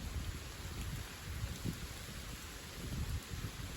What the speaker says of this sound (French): Qu'il pleut.